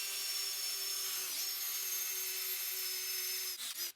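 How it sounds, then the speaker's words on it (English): A drill grinds steadily through cast aluminium with a high, harsh whine that holds for several seconds before sputtering briefly at the end. "That's pretty nasty stuff to drill through, like an aluminium type, casted type stuff."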